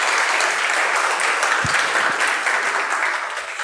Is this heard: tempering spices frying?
no